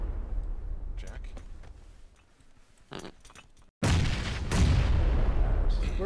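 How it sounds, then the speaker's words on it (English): Frag grenades exploding in PUBG near hay bales: a quieter stretch with a few distant thuds, then a sudden loud close blast with a long rumbling tail. Players talk over it. "Where are these frags coming from?"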